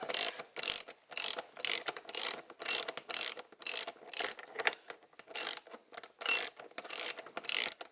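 Ratchet tightening the fuel tank bolt nut on a 2015 KTM 690R Enduro ABS motorcycle: a steady series of about fourteen crisp, close clicking bursts with short gaps, no talk.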